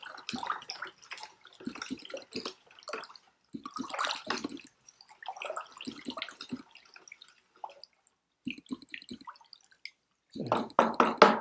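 Water sloshes and drips in half a bucket as a weak solution is stirred with a handy implement, giving irregular splashy bursts separated by short pauses, then a louder churning swirl at the end.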